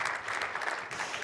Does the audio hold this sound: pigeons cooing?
no